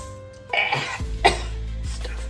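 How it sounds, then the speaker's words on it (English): A couple of harsh, close coughs in quick succession, with a throat-clearing edge, while mixing perlite into soil, over a low steady background hum. "Stuff always makes me cough"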